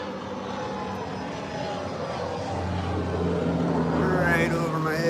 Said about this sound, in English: here comes a plane to fly right over my head.